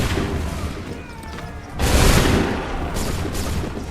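Musket volley in Assassin's Creed III: massed gunfire rolls out as a broad, booming crack over a continuous noisy battle din, followed by a second weaker burst.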